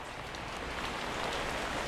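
Steady rain pours down in a dense, even hiss, close and constant, with no voices.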